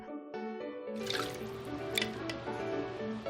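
Water treated with a small dose of liquid additive pours and drips over fish to soak, with quiet splashing and dribbling after a brief lull, close and faint.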